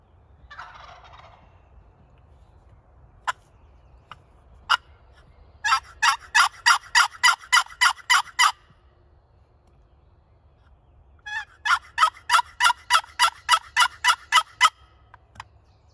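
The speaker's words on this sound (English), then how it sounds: "I know there's some gobblers around here, but these jakes are fun to play with." Two bursts of rapid, repeated gobbling from young male wild turkeys (jakes) in Connecticut woods during spring turkey season, each a run of about ten loud, close calls, preceded by a brief distant call and a few sharp clicks, with no talking.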